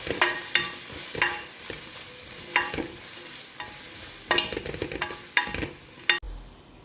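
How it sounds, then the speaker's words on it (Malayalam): Onions, garlic, ginger and green chilli sauté in a pan for chicken curry, a soft steady sizzle broken by repeated scraping stirs of a spatula, close and with no talking. "ഇതെല്ലാം കൂടി നന്നായിട്ട് വഴറ്റാം."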